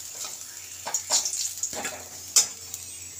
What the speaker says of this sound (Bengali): এভাবে আমি সব ওলগুলো ভেজে নেব।